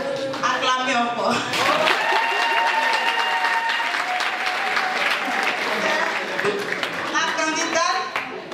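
An audience at a Miss Côte d'Ivoire Italie pageant final applauds a contestant, sustained loud clapping and crowd noise filling the room, with an announcer speaking over the start and end.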